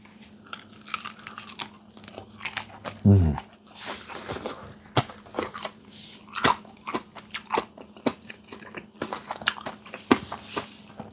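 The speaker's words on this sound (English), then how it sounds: "Can you hear the crunch?" Crispy, marinated buttermilk fried chicken crunches in repeated close, sharp bites and chewing, with voices present around the crackly sounds.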